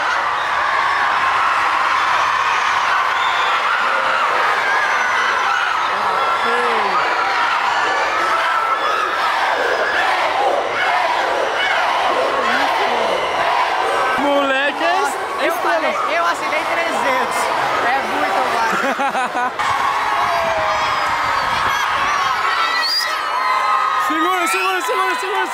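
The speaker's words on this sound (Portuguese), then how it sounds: "Olha o grito!" Street crowd in São Paulo shouting and whooping together, a dense, loud, continuous roar of many voices with sharp yells cutting through, close and unbroken throughout.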